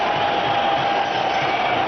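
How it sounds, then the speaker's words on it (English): Broad, steady crowd roar at a cricket one-day international between India and Australia, a dense wash of cheering spectators filling the whole stretch without a break, no voices standing out. "The crowd's loving it."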